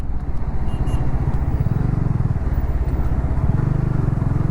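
Several motorbike engines idle and rev close by in a rumbling traffic jam on a forest road, a constant throbbing drone with no talking.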